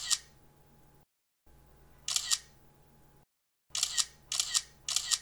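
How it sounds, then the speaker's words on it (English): An iPhone camera shutter fires in crisp, bright clicks: one near the start, one in the middle, then three in quick succession, close and clear against near silence. "it was an iPhone camera shutter noise"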